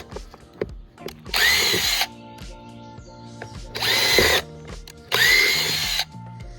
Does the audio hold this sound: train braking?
no